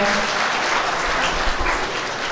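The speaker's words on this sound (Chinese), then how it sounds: "请大家给他掌声。" Wedding guests applauding in a hall, a thick, steady wash of clapping that fills the short moment without any voices on top.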